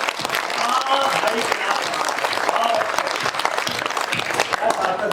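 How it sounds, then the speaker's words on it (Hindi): An audience at a kavi sammelan poetry gathering in Gogunda applauds with hands raised, a dense, sustained roar of clapping with crowd voices mixed in, steady and loud throughout. "एक बार पूरा सदन दोनों हाथ ऊपर करके ताली बजाओ"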